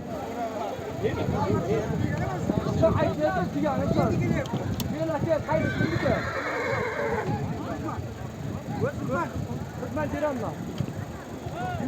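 A Turkmen horse whinnies at a busy horse market, with repeated neighs and clip-clopping hooves among other horses, while people talk and call out loudly around it.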